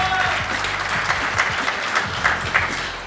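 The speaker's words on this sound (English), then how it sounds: "can we have one final applause for them before we start the awards tonight?" Audience applause for contestants at a televised modelling pageant awards night, a steady wash of clapping that fills the whole stretch with no voice on top.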